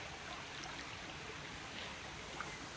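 Mountain stream flowing at the foot of a hill, a steady, continuous broadband wash of running water with no breaks, heard alone and fairly close.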